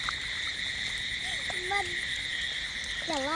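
A group of Indian bullfrogs outdoors, several short croaks and rising calls over a continuous high insect-and-frog chorus, moderately close, with no speech.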